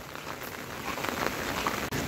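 Steady monsoon rain falling on a Mumbai street on a Monday, an even, continuous patter of drops with no talk over it.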